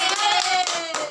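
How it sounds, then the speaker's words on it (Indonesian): Students in a classroom clap their hands together in a quick, loud burst of close, overlapping claps lasting about a second. "Tepuk tangan."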